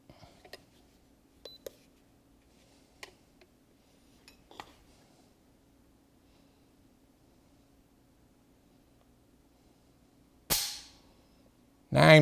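A new, unfired AR-15 rifle being checked for trigger pull. Several faint sharp clicks are spread over the first seconds, then near-silence, followed by two louder bursts of noise near the end.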